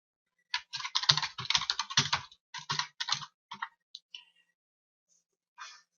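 Someone types text into a CorelDRAW document on a computer keyboard, with quick bursts of crisp keystrokes and short pauses between them, ending in a few isolated taps. There is no talking.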